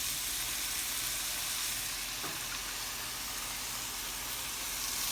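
Cooked rice goes into a hot pan for fried rice, giving a steady, loud frying sizzle with a faint stirring scrape, close up and continuous, with no talking.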